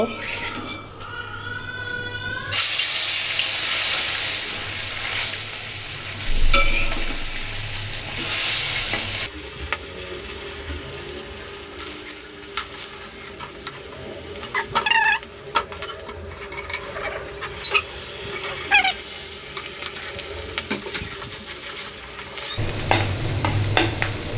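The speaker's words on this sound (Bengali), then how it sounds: "এখন হলো মাছ ভেজে নিব" Marinated pangas fish frying in hot oil in a village kitchen, a loud crackling sizzle with stirring scrapes that shifts in intensity across the stretch, and birds clucking faintly in the background.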